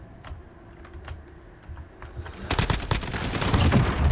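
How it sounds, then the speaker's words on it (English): Rapid, frantic typing on a computer keyboard during a fast shooter game, the clicks starting sparse and faint and then bursting into dense, loud clatter layered over game gunfire. "I'm literally like spazzing on this keyboard"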